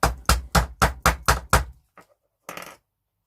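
A hammer strikes a journal cover seven times in a quick, even rhythm, each blow sharp and close, followed by a small tap and a softer rattle after a pause.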